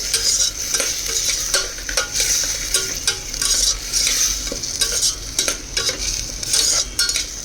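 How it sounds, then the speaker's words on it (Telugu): Tomato puree frying in oil for a rajma curry, a steady close sizzle with repeated scraping strokes of a stirring spoon against the pan throughout. "సో ఇది టమోటా ప్యూరీ కొంచెం బాయిల్ అవ్వాలి, ఫ్రై అవ్వాలి ఆయిల్లో."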